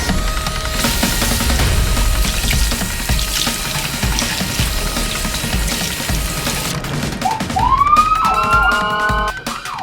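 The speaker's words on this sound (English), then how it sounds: "Ambulance to the rescue!" A toy ambulance siren wails upward near the end, rising and holding a bright electronic tone after a long stretch of steady rushing, water-like noise.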